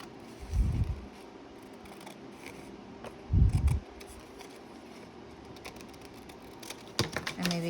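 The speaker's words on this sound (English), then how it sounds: "use these big Tim Holtz scissors." Large Tim Holtz scissors cut through a paper strip while finishing ephemera, giving two distinct snipping bursts close to the mic, with faint handling rustle between them and a short shuffle of paper at the end.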